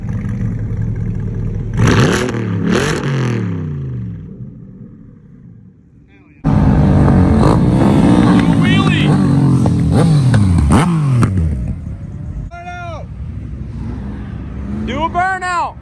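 A restored OBS-era Ford pickup's engine revs loudly in repeated rising pulls, then holds a sustained roar close by, with people talking over it.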